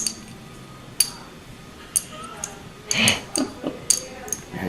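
Small rosewood bridge pieces from a Dan Armstrong electric guitar tap and clink together, a handful of sharp, woody clicks spaced irregularly, close and fairly quiet with light handling noise between them.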